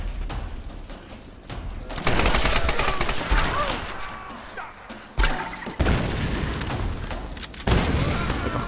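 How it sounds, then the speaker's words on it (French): Gunfire and heavy impacts in the Tomb Raider video game, with repeated bursts of shots, booms and crashes coming in several loud waves over a busy background, with faint talk at moments. "Putain, il me tire dessus."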